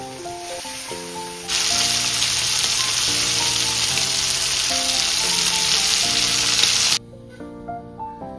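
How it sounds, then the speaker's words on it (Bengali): Finely cut bottle gourd and shrimp frying with poppy seeds, a loud sizzle that bursts in suddenly, holds steady for several seconds, then cuts off, under continuous background music. "আমি ছোট্ট করে কেটে একটু পোস্ত দিয়ে ভেজে নিই"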